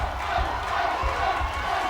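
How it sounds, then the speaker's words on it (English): Boxing arena crowd cheering and shouting during the closing seconds of a round, a loud, sustained roar with rising yells, heard alone without commentary. "The crowd is getting excited."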